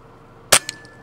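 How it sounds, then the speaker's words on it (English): A BSA R10 air rifle fires once at night while rabbit shooting: a sharp, close crack followed by a faint second tick, then quiet. "That's another clinical shot with the R10."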